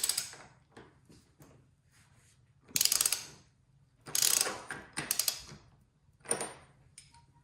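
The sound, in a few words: ratchet loosening 30mm fork top caps on Triumph Daytona 675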